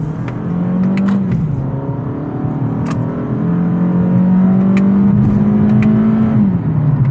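A 2023 Toyota Camry SE engine revs after a manual downshift, its hum climbing and holding, dipping, then rising and holding again before easing off. The sound is steady and close from inside the car, with no talking.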